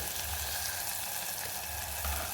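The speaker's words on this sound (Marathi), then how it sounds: "आता दोन मिनटासाठी छान हे टमाटर तळून घेते तेलामध्ये" Tomatoes frying in oil in a pan, a steady, even sizzle that holds throughout, close and moderately quiet with no talking.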